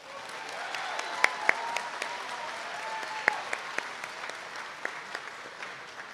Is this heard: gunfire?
no